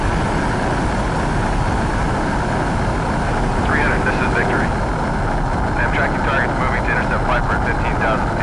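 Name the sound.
MiG-29 jet aircraft taking off, from a video game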